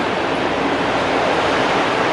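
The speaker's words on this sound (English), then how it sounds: "Can you guys hear the waves?" Ocean waves rolling onto a beach at Cabo San Lucas, a steady loud wash of surf with no breaks and no voices.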